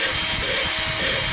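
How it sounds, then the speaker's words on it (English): Hand sanding on a large turned maple piece gives a steady, close, abrasive rubbing hiss, continuous and even throughout with no talking. "Then I'll do some hand sanding."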